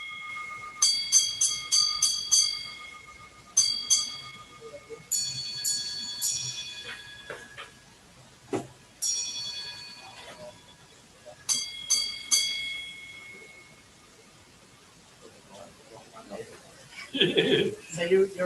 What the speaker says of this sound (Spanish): Hace mal los golpes de campanilla y lo carga el otro